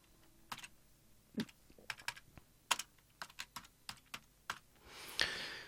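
Someone types on a computer keyboard to enter a Google search, producing quiet, irregular key taps close by in short bursts, then a soft breathy rustle at the end.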